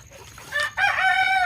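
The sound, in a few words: village chicken rooster crowing in breeding cage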